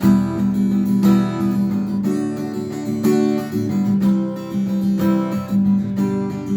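Strummed acoustic guitar chords in standard tuning ring out in a steady rhythm, loud and close, with no voices.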